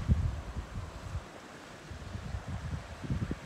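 Steady wind roars and buffets the microphone with low rumbling gusts at a kiteboarding and foiling spot, loud and continuous throughout, with no voices.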